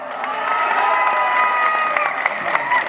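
Sparse, thin applause from an audience at a Hindi poetry recitation honouring Indian PM Modi, a steady patter of claps with crowd murmur and a few shouts mixed in, continuing evenly at moderate loudness.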